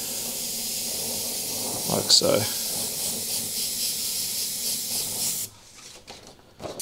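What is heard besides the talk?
airbrush spraying paint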